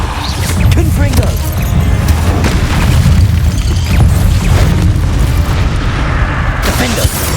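Confringo explosion spell going off in Hogwarts Legacy, heavy booming blasts that rumble loudly and continuously under shouted voices.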